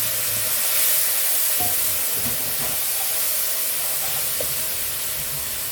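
Water poured into frying spices in a pan for a potato and pointed gourd curry sets off a dense, steady steaming hiss and sizzle, loud and close, with faint knocks underneath.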